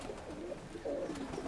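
Pigeons coo softly nearby, a couple of low, rolling calls over quiet background hiss.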